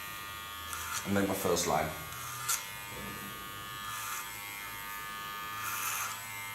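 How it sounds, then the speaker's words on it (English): An electric hair clipper buzzes in short bursts while cutting an asymmetric bob in a salon, a steady whine under a woman's close speech. "Starting with my clipper cut"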